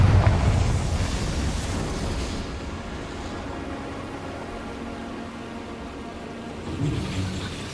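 A Confringo fire spell blast in the video game Hogwarts Legacy: a loud, broad explosive whoosh at the start that fades into a long rumbling, crackling wash, with a second swell near the end.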